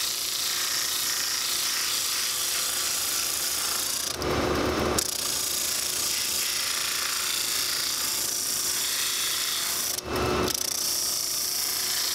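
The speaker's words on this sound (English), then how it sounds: "now I can just take this middle chunk off with a sander." A power sander grinding the middle section off a leather boot sole makes a continuous harsh whirring rasp. It breaks into two short, louder bursts of abrasive contact along the way.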